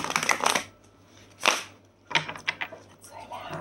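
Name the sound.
ripple shuffle of playing cards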